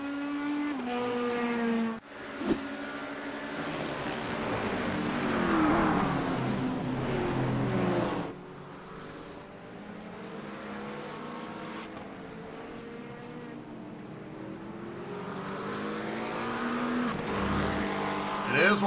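A GT3 race car at The Bend circuit howls through a turn, engine note rising and falling with downshifts, a sharp bump near the start, heard under race commentary as the back end loses grip.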